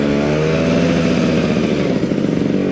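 A Vespa PX125 scooter, about twenty years old, runs steadily up close on a test ride, its engine droning evenly with slight variations in pitch throughout.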